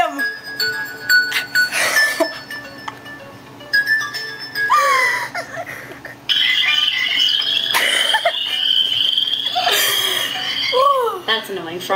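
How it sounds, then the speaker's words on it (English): An enV2 phone ringtone of frogs croaking plays repeated warbling croaks and chirpy squeaks in bursts, with tonal electronic notes between them, fairly loud and close and mixed with some voices. "Frogs croaking"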